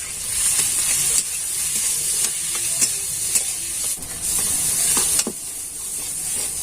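A spoon stirring spiced potatoes with turmeric, Maggi masala and salt in a hot pan, a steady hissing sizzle broken by a few scraping strokes against the metal, close and continuous, with no talk.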